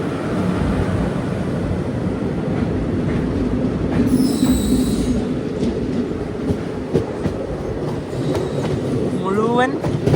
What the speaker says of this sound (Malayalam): ട്രെയിൻ ഇപ്പോൾ തിരൂരിലേക്ക് ഇതാ എത്തുകയാണ്. തിരുവനന്തപുരം മംഗളൂരു ഏറനാട് എക്സ്പ്രസ്.